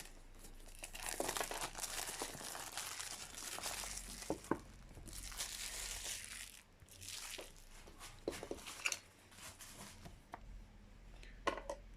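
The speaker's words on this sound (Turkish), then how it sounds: "Ve poşetini yırtıyorum." Plastic crinkles and crackles up close as the plastic bag around a Xiaomi Redmi Note 10 Pro smartphone box is pulled and torn open, with sharp rips and rustling bursts spread over several seconds.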